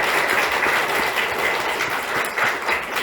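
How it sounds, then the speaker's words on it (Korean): A church congregation claps during a Sunday worship service to welcome a new accompanist, producing a steady, fairly dense applause with slight surges, and no talk over it. "박수 한번 할까요?"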